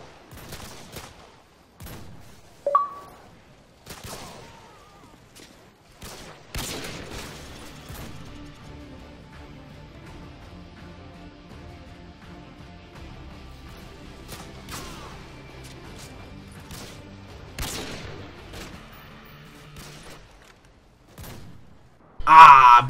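Gunfire in a video game trick shot on the High Rise map, with scattered sharp shots and a short burst of rapid fire over a low game hum, fairly faint, ending in a louder final hit.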